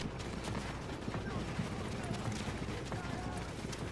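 Gunfire from a player's weapon aimed at a boss in The Division, a dense rapid stream of shots at steady loudness with game sound effects throughout.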